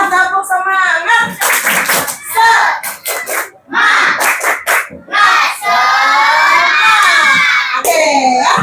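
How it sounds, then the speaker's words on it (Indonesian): A classroom of children performs a clapping chant, rhythmic bursts of hand claps alternating with loud shouted chanting voices, close and energetic. "sebelum menutup pembelajaran hari ini, kita tepuk semangat dulu ya"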